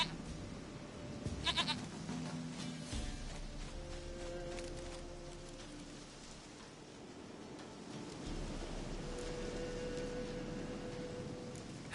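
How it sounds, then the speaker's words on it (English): A goat bleats in a fantasy video game, wavering calls up close over a low rumbling backdrop like rain or distant thunder, the bleats coming in a cluster early, then sustained tones drifting through the middle and later. "Goat of mine, dearest, sweetest goat"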